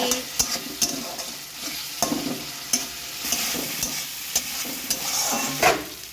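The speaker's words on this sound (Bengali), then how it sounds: "একটু ভালো করে মশলাটাকে একটু কষিয়ে নিচ্ছি" Spice paste for a snakehead fish curry sizzles in a pan while a spoon stirs it in repeated scraping strokes, close and steady with soft frying hiss underneath.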